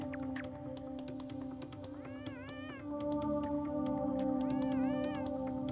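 A cat meows several times in the Yume Nikki video game. The drawn-out, bending calls sit over a steady musical drone with a light, ticking rhythm.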